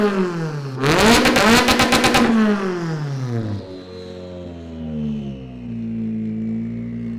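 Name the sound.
rallycross car engine revving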